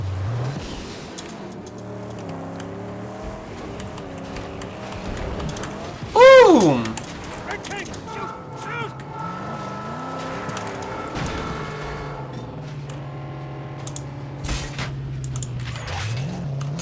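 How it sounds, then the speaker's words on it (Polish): A car engine approaches in the video game Mad Max, its pitch rising and falling in a loud sweep, amid steady game sounds and background music. "Słyszę jakiś samochód."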